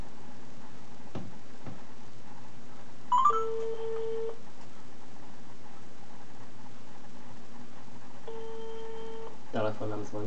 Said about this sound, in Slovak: Telefón nám zvoní.